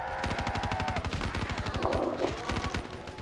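Rapid automatic fire from the Man of War rifle in Call of Duty Black Ops III zombies nightmare mode, a dense loud burst of shots running steadily for several seconds with game effects layered underneath.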